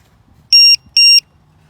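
An RC battery voltage checker gives two short, shrill electronic beeps in quick succession, clean and piercing against a quiet room.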